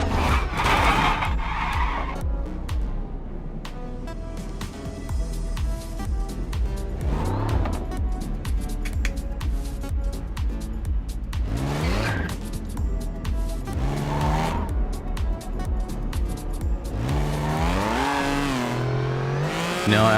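A racing car in the Assetto Corsa video game, driven in VR, revs hard and skids with squealing tires, engine tone rising and falling continuously and loud throughout.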